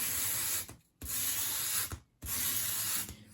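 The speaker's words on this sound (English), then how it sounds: "just use a finer piece of sandpaper to sand the edges" Fine sandpaper rubbed along the edges of a small wooden 1/12-scale dollhouse coffee table, in three steady, close, raspy strokes separated by brief pauses.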